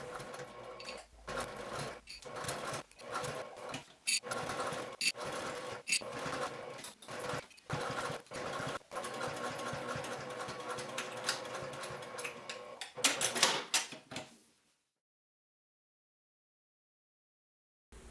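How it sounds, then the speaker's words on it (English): A sewing machine top stitches a pocket onto a bag with a quarter-inch seam, running in fast steady bursts separated by short stops for about fourteen seconds before going quiet. "take this over to the sewing machine and top stitch the pocket in place"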